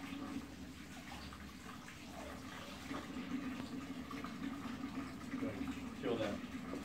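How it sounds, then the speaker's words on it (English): Tap water runs steadily while lathered hands are rinsed at a scrub sink before sterile work, a continuous close splashing wash that holds through the whole stretch. "Providing I was already lathered and I'm just rinsing."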